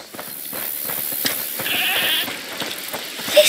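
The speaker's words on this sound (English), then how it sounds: "Is that the goat he talked about?" A goat bleating in the video game A Plague Tale: Requiem, a wavering, nasal cry of moderate loudness over a busy, clattering background, with no speech.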